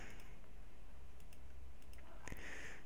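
A computer mouse clicks in a few light, close taps while a cutout is traced in Adobe Fireworks, over a faint steady background hiss, with no speech.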